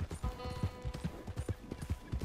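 Horse hooves clip-clop in a steady rhythm in Red Dead Redemption 2, a run of close, even thuds lasting the whole stretch with a faint background hum.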